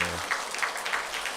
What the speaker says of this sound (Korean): 여러분 격려와 또 축하의 박수 보내주시기 바랍니다